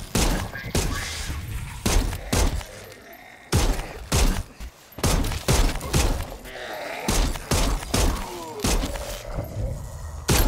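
Rapid bursts of gunfire from Dead Island 2, with sharp, loud shots in irregular clusters across the whole stretch, punctuated by thuds and brief pauses.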